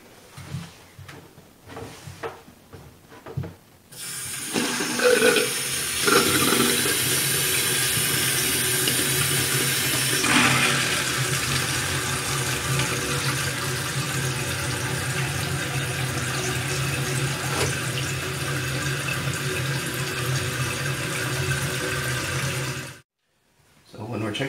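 Water rushes into a toilet tank through a newly installed fill valve, a loud steady hiss and gurgle that begins after a few seconds of handling noise and cuts off abruptly near the end.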